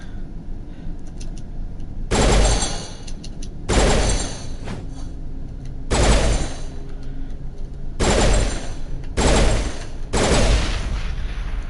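Gunfire in the Mass Effect video game, five loud bursts of rapid automatic shots, each lasting about a second, separated by short gaps of quieter background.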